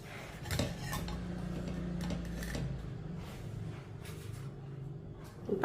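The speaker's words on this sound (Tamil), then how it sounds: "இப்போ கரண்டியை வச்சு திருப்பி போட்டுக்கிறோம்ப்பா" A ladle flips steamed dhokla in a covered pan, making metallic scraping and clanking against the pan, close and moderate, a few distinct knocks over a low hum.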